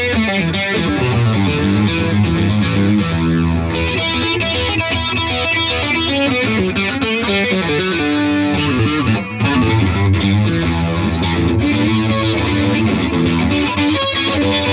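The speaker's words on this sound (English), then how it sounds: "Let's throw a Wampler Pinnacle Distortion, a Tortuga Martini Chorus, and a DMB Lunar Echo into the mix to show how the Fano JM6 shines through effects." A Fano JM6 electric guitar plays through a Wampler Pinnacle Distortion, a Tortuga Martini Chorus and a DMB Lunar Echo, giving a dense, sustained distorted tone with shimmering chorus and echo tails, loud and continuous with no talking.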